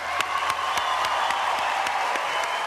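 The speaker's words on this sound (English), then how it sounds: "Please join me in giving these graduates a well-deserved round of applause." A crowd at a university graduation ceremony claps steadily for a few seconds, a dense wash of applause with some louder individual claps standing out.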